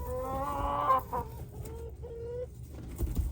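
Backyard laying hens cluck and squawk close by in a short burst of drawn-out calls, with a low rumbling background.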